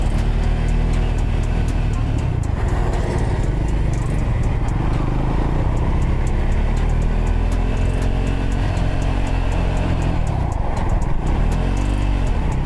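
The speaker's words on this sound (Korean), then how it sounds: "인생 첫 3단, 기어 3단을 넣었습니다" A motorcycle rides along a road and shifts up into third gear, giving a loud, steady engine roar with changing pitch and wind buffeting close to the microphone, and no talking is heard.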